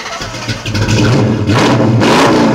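A modified 1967 Ford Mustang with a big-modded engine revs hard at a cruise night, its exhaust roaring in sustained loud bursts that swell and surge, close by with no talk over it.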